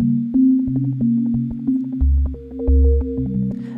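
Synth arpeggio whose rate is swept quickly by a Max for Live LFO, so notes speed up and slow down in bursts over a low sustained bass, heard alone.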